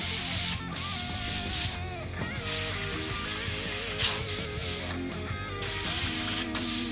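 Orange paint sprays from a spray gun in bursts of steady hissing, several seconds each, separated by brief gaps, loud and close with no talk.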